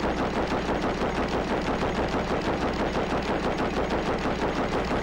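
Rapid, continuous automatic gunfire from a manually controlled turret in Rust hammers away without pause, dense and loud throughout.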